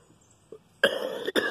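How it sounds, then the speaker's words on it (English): A smoker coughs close to the mic, two harsh bursts in quick succession after a short quiet throat sound. "I know y'all have no desire to sit and listen to me cough"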